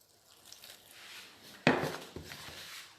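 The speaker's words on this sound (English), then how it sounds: "Keep stirring it." A spoon stirs pizza dough made with water and yeast in a bowl. There are quiet rubbing scrapes, then one sharp knock and a softer second one, close by with no voices.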